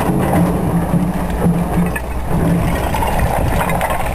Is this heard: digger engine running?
yes